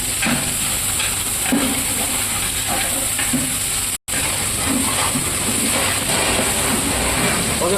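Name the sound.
ginger paste frying with golden-brown onions in a pan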